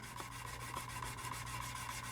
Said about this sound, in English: these are old sanding sticks. I use the heck out of my sanding sticks.